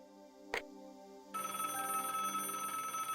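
Telephone ringing in the Broken Sword adventure game: a short click, then a steady electronic ring tone that starts partway through and continues to the end, clear and alone.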